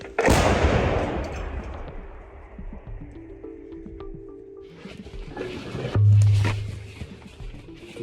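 Howitzer artillery gun firing outdoors: one loud, close blast at the start decays into a rumbling tail, followed by quieter mechanical sounds and a second, lower heavy thump near the end.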